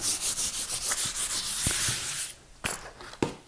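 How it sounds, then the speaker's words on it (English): A hand rubs and smooths application tape over a vinyl decal for a vehicle, giving close, rhythmic brushing strokes for about two seconds, then a few sharp taps and crinkles. "I'm just going to start on one side and just kind of use my hand and smooth it on there"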